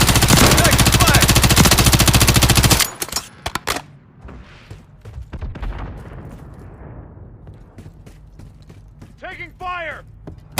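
Video game gunfire: a dense, loud burst of rapid automatic fire for nearly three seconds, then scattered single shots and mechanical clicks, with a short voice sounding near the end.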